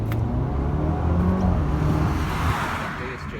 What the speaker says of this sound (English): it does have quite a nice note for the 4-cylinder